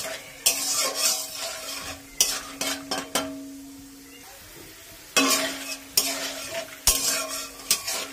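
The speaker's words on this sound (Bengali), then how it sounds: "এখন এই তেলেই দিয়ে দেবো আমি কিছুটা কাঁচা বাদাম। বাদামটাও আমি ভালো করে লাল লাল করে ভেজে নেব" Raw peanuts fry in hot oil under a bright sizzle, broken by repeated scraping stirs of a utensil against the pan and a short quieter lull; no voices.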